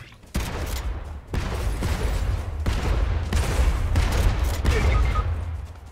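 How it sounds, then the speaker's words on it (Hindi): Shotgun fire in a multiplayer shooter game: a few heavy, loud blasts open the clip, each followed by a sustained roar of gunfire and noisy combat that fills the remaining seconds. "Shot gun."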